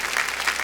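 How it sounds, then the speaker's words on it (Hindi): A brief burst of steady applause from a studio audience on a television quiz show, close and even with no voices over it. "जोरदार तालियां बज जाए इनके लिए"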